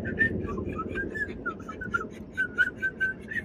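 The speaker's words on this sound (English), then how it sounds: "Can you whistle?" Someone whistles a wandering tune of short and held notes, clear and close, over a low steady background hum indoors in an RV.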